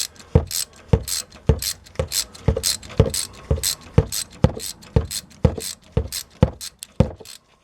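A ratchet loosening a rusty bolt on an old vehicle, with a steady run of sharp, close clicks at a quick even rhythm, alone without talk.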